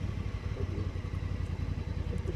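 A motorcycle engine runs with a steady low rumble and clatter, fairly loud and continuous, with no voices over it.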